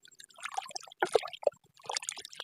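Raw chicken heads being rinsed in water before cooking a gravy, with short bursts of splashing and sloshing separated by brief pauses, close by.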